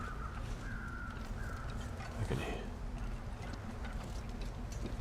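Crows caw overhead while circling in the snowy wilderness of The Long Dark survival game, a few harsh calls heard at mid distance over a steady wind-like ambient bed.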